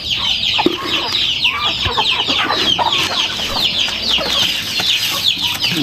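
A flock of Rhode Island Red chickens clucks and chatters continuously at close range while being fed, with busy overlapping calls and scratching throughout.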